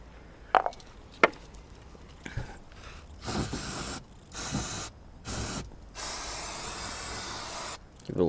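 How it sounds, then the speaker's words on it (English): Brake cleaner blasts from an aerosol can around the oil level sensor hole on a 2004 Audi B6 S4, several loud hissing sprays of a second or two each between a few sharp clicks and handling knocks. "clean the hole up around there with some brake cleaner"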